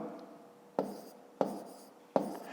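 Numbers for a long-division problem written by hand, giving three sharp, close tapping strokes spaced roughly evenly over a faint steady background, with no talking.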